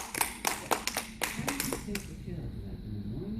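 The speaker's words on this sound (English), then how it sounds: "Give yourselves a round of applause" Brief clapping from a small group at a detox workshop: a few separate claps in the first two seconds, then it fades into a quieter room with a voice talking.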